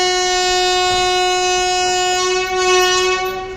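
Chennai Egmore–Puducherry passenger train pulling out of a station, a long sustained horn blast with a rich stack of steady harmonics sounding loud and close over rumbling wheels and track noise.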